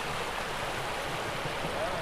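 Floodwater from an overflowing lake rushes through a village in Chikkamagaluru during heavy Karnataka rain, making a steady, close, roaring wash of moving water.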